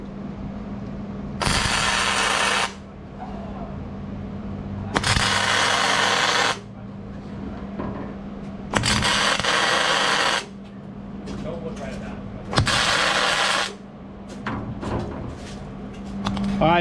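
Steel bracing being welded onto a jon boat deck: four long bursts of loud, steady crackling arc, each lasting a second or two, separated by quieter pauses with a constant low hum running underneath.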